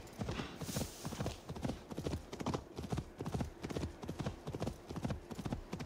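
Horse galloping in the video game Assassin's Creed Valhalla, a steady rapid clip-clop of hooves close up and loud, running continuously with a brief whinny and little talk over it.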